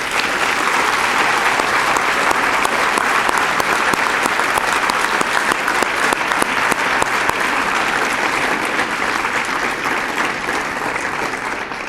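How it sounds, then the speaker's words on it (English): An auditorium audience gives a graduating class of 2009 a sustained round of dense clapping at a senior academic recognition ceremony, loud and even throughout with no pause. "Let us have one more round of applause for the class of 2009."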